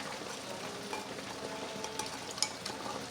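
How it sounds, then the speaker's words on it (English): A spoon works a spoonful of hot water into a melting sauce base, with a steady soft scraping and sizzling texture and a few faint clinks, close by and with no voices. "I'm just stirring that up"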